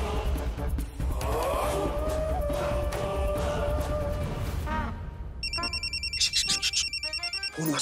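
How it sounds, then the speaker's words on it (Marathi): A mobile phone ringtone plays in a household scene, an electronic melodic pattern entering midway and repeating loudly over a background of ongoing music and room noise. "उचला उचला, फोन वाजतात"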